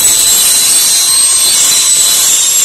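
Saw cutting while underpinning a new trailer, a loud steady high-pitched shriek with a sustained whine that runs unbroken throughout, no voices.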